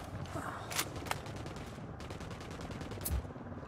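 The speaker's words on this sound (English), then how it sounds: "Shots fired." Gunfire in Ghost Recon Wildlands during a cartel firefight rattles as steady rapid shots at mid distance, with a couple of sharper, louder cracks standing out against the continuous crackle.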